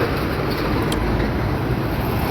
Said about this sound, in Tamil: டிராஃபிக்கான ஓவர் டிராஃபிக்ங்க